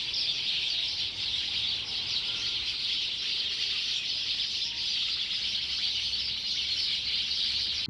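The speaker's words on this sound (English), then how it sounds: "stayed in a house with the lovely backyard you just saw and all of the birds at sunrise and sunset" Birds calling around a backyard in Cambridge, New Zealand, a steady dense chorus of high chirps and tweets that fills the whole stretch without a break, with no voices present.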